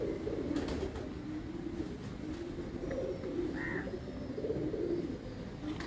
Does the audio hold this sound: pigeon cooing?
yes